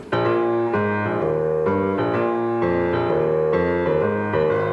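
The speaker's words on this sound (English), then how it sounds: "his left hand would play what we call a walking bass" Piano left hand plays a walking bass line steadily through low notes beneath chords, a continuous even pulse of plucked-sounding tones, close and clear with no voices.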